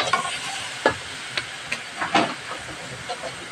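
Squid sautéing in a pan gives a soft, continuous sizzle and hiss, broken by occasional scraping stirs and small pops, fairly close and moderately quiet.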